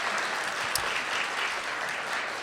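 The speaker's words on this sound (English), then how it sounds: "a round of applause for Marty McNulty in that last show" A theatre audience applauds after a show, a dense, even clatter of many hands clapping steadily at moderate distance with no talk over it.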